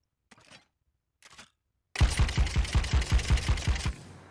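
A smuggler weapon fires in the Dune Awakening game: two brief faint clicks come first, then a rapid burst of about a dozen loud, evenly spaced shots, ending in a short decaying tail.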